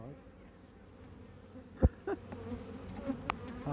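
Honeybees buzz around an open hive, a low steady drone with a few sharper close passes and knocks as the frames are worked.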